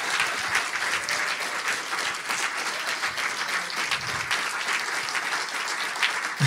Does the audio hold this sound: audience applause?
yes